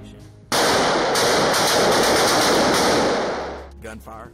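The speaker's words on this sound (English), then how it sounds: "Gunfire, flashbangs, noise flash, diversion devices, and explosive breaching." Dense, sustained automatic gunfire from tactical training, a loud continuous burst of rapid shots lasting about three seconds before tailing off into quieter sounds.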